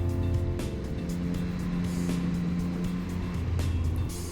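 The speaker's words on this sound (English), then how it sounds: "You see a gap, you blip the throttle and you've passed them." Triumph Speed Triple 1200 RS motorcycle engine hums steadily under heavy wind and road rush while riding, with a brief rise in engine pitch on acceleration.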